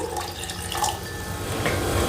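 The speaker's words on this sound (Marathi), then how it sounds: "आता याच्यामध्येच 2 वाट्या पाणी टाकून" Two cups of water pour into a mixer jar, a steady close splashing flow lasting a couple of seconds, with no talking.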